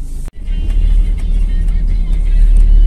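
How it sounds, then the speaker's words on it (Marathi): Cars idle and creep in a Pune traffic jam, giving a steady loud engine rumble with road noise close by and someone talking over it. "पण ट्रॅफिक जाम चालू आहे"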